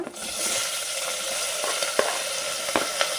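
Onion, capsicum, tomato and green chilli sizzle steadily in a hot oiled pan for wheat upma, a continuous close crackle broken by a few sharp spatula clicks against the pan.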